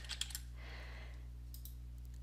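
A few quick computer keyboard clicks as a short label is typed, close and fairly quiet over a steady low hum, then a brief burst of keystrokes near the end.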